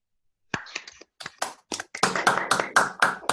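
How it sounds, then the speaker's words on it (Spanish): Scattered handclaps from an online audience come through open microphones for Juan, the invited speaker at a mathematics talk. A few uneven, isolated claps at first build into a denser burst of clapping. "Pueden activar los micrófonos, así aplaudimos a Juan."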